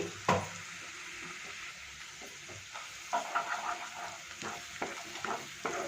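Ginger garlic paste sizzles in a hot pan for a gravy, a steady frying crackle with scraping stir strokes and small bursts of spatter, close and moderately loud with no voices.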